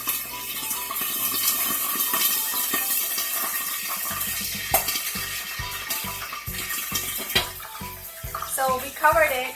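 Garlic and ginger paste hits a hot pan of chicken karahi, first a rushing hiss, then a run of loud irregular popping splashes and sizzles close by.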